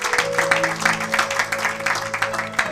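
A church congregation claps along during a worship service, steady rhythmic applause with a sustained organ or keyboard chord underneath and a few voices mixed in.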